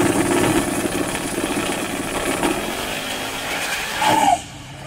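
A Motion Raceworks Marquis drag race car at Race Week 2.0 runs steadily down the track, a loud, sustained engine roar holding for about four seconds before a brief surge and a sharp drop-off.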